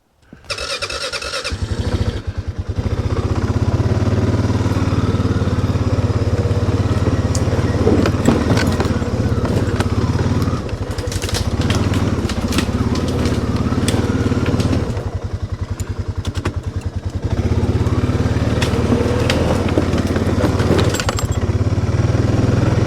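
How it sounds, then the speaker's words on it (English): A small engine rumbles steadily at close range for most of the stretch, with rattles and clatter over the drone and brief dips in power. "let's bring the ATV back through here and see how it does"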